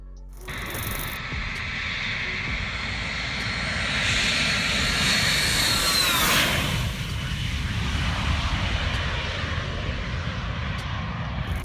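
A Dassault Falcon 9X business jet flying, its engines producing a steady loud roar that swells in the middle as it passes close, with a whining tone sweeping downward before settling into a sustained rumble.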